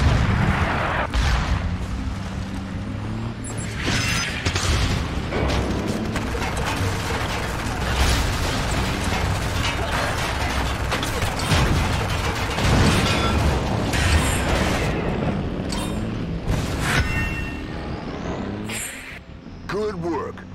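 Mortar fire and explosions in the vehicle combat video game Renegade Ops, with dense, continuous mechanical rumbling, booms and clanking, plus game voice lines speaking over the action.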